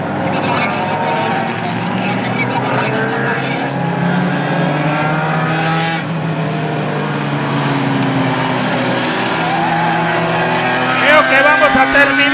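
Loud engines roar continuously as race cars speed past on the main straight in Panama, pitch shifting as they pass, with a voice talking over the noise.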